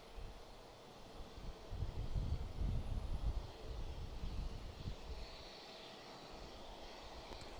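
A Boeing 767 airliner's engines roar at Houston Bush Intercontinental Airport, a distant jet rumble that swells midway and then eases into a steady background drone, with no talk.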